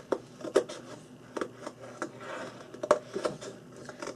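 Scissors snip through purple glitter paper in short, separate cuts, a crisp crunch every half second or so, close and fairly quiet with light rustling between.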